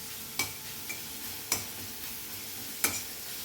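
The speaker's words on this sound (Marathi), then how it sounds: "या तेलात दळलेली मिरचीची पेस्ट परतून घ्यायची" Ground green chilli paste frying in oil in a kadhai: a soft, steady sizzle with a few crisp taps of a spatula against the pan at irregular intervals, close by.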